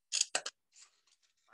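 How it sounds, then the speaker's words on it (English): Scissors snip a piece off a styrofoam cup in a few quick cuts, close and crisp, with two or three sharp bursts followed by softer trimming sounds. "So you can use a styrofoam cup like this and you can cut a piece off"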